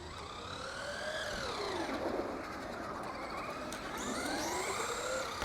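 Traxxas Rustler VXL RC car on a test run, its electric motor whining in long rising and falling sweeps as it speeds up and slows, fairly faint and without talk.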